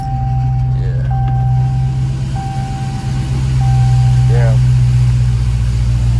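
A Dodge Challenger Hellcat with catless mid pipes and a possible exhaust leak idles with a steady, loud low drone, while a high electronic chime beeps repeatedly over it.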